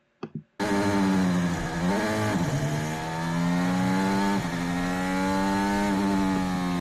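Racing cars drone past on the track under safety car conditions, a loud sustained engine note with shifting pitch as they accelerate and ease off, after a short quiet opening.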